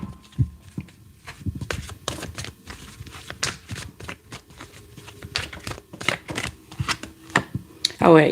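Tarot cards handled and drawn from a deck: a steady run of soft, close flicks, slaps and shuffling riffles, irregular in rhythm, ending with a brief louder rustle.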